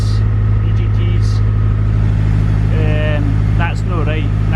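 A K-swapped Mazda RX7 with a GTX3076R turbo engine idles rich, giving a steady, loud, close low drone throughout, with a brief voice near the end.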